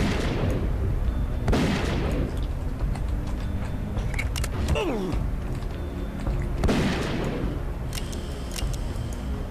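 Rifle gunfire in the video game Zeno Clash: two loud, sharp shots several seconds apart, each with a booming tail, over constant game background noise.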